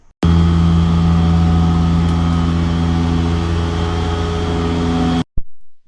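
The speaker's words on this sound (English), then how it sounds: "This is the sound of a cleaning truck outside Friedman's" A street cleaning truck runs on 10th Avenue in Manhattan, its loud, steady engine drone and mechanical whine holding close and unbroken for about five seconds before cutting off abruptly.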